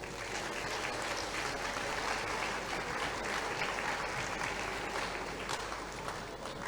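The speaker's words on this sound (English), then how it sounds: "Clap for yourselves." Students applaud together at a vice-chancellor's distinguished lecture, a dense, steady roar of many hands clapping throughout, close and loud, with no talk over it.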